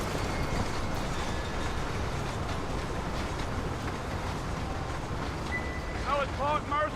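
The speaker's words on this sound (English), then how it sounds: "There goes the train." A train rumbles past steadily in the video game Red Dead Redemption, a continuous broad roar filling the scene, with a few brief whistle-like chirps near the end.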